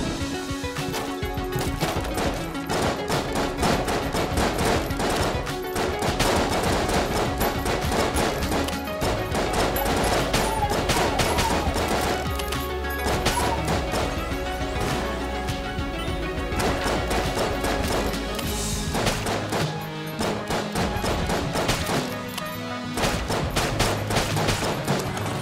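Rapid, dense gunfire and bullet impacts in the roguelike shooter game Enter the Gungeon, a relentless barrage of sharp shots and crashes layered over loud game music for about twenty-five seconds.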